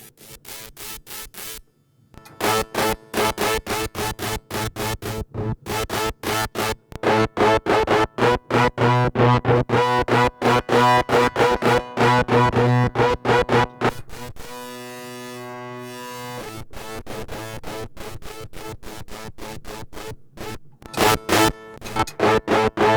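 Electric guitar played through a Death By Audio Apocalypse fuzz pedal, thick and heavily distorted, in loud chopped strummed bursts with a sustained droning chord in the middle and short stabs near the end.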